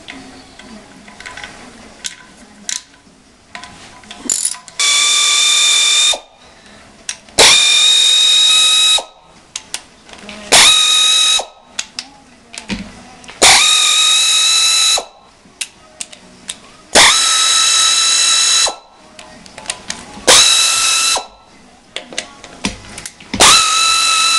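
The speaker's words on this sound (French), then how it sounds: "une fois qu'on a enlevé tous les boulons de 10" A power tool whirs on a BMW 530d E39 engine as 10 mm bolts are removed, in loud repeated bursts of a few seconds each, with ratchet clicks and metallic handling between them. It is close up, with no talking.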